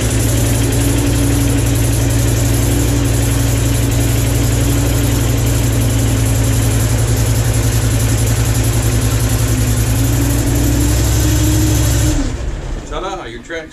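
A Toro Dingo TX420 compact utility loader's engine runs loud and steady at close range for most of the stretch, a continuous low rumble that drops away abruptly near the end.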